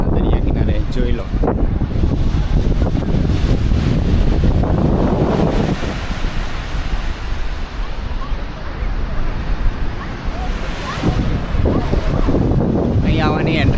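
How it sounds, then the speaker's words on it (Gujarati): Strong wind buffets the microphone on the seashore at Somnath, roaring and gusting loudly throughout with waves washing beneath it and voices heard faintly at times. "ફાઇનલી આપણે આવી ગયા સોમનાથના દરિયા કિનારે."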